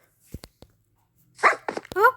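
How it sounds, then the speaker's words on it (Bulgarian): A dog gives a few short, sharp barks close by, then a quicker cluster of yips and whiny barks, with brief silences in between. "Куче."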